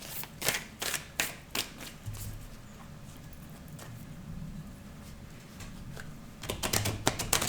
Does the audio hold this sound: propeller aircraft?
no